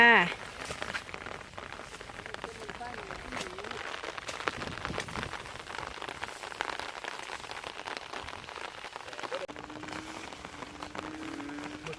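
Steady rain pattering on a surface throughout, with a voice talking over it at times.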